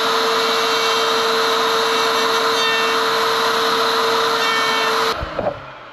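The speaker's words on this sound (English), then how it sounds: "We're gonna cut some grooves in the edges so they can pick it up." A power tool cuts grooves into the edge of a wooden cutting board, a loud steady whine with a constant pitch held for about five seconds before it cuts off and spins down with a few small clunks.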